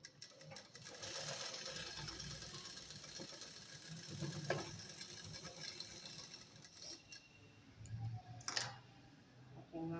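A sewing machine stitches fabric for a girl's silk pattu dress, its needle running in a fast, steady mechanical drone with brief pauses and small clicks; no one speaks.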